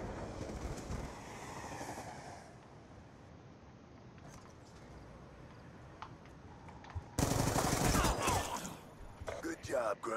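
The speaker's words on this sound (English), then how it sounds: "Saved by the train." In the Black Ops 2 multiplayer match, a train rushes through the map with a loud, broad roar that surges in near the end after quieter ambient game noise and scattered clicks.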